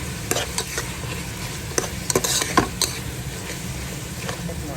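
Pinakbet vegetables are stirred in a cooking pan over a steady close sizzle, with a series of sharp spoon-against-pan scrapes and clinks scattered through and no talking.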